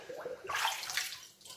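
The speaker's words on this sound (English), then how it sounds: "getting a bit of water in there and washing it out" Cold tap water splashes and swirls inside a homebrew bottle being rinsed out, a brief, soft, close burst of gurgling and sloshing with no talking.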